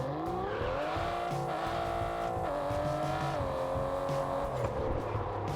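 Fully upgraded Aston Martin DB11 in Test Drive Unlimited Solar Crown, engine droning steadily as it climbs through revs with brief dips at gear changes, tires hissing faintly underneath, close and continuous.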